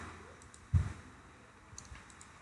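A single soft computer mouse click, close and quiet, sounds against faint room noise during Revit 2024 design work, with a couple of fainter ticks afterward.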